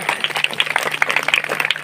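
A village audience at a gathering in Lilsipura claps in a brief, scattered round of applause, moderately loud and close, with irregular individual claps over a faint hum.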